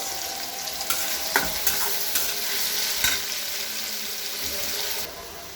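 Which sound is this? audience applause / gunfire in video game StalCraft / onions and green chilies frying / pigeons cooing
onions and green chilies frying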